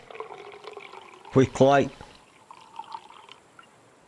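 Water in DeadSide is poured into a container: a short, bright splashing fill of about half a second, preceded and followed by faint background sound and a quiet voice.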